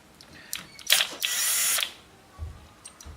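A ratchet fitted with a 12mm socket backs out bolts in quick bursts of clicking, sharp close-up mechanical rasps with short pauses and a few light knocks between them.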